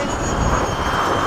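An FMS 70mm F/A-18 RC jet taxiing, its electric ducted fan giving a loud, steady, close whoosh and whine that holds without a break.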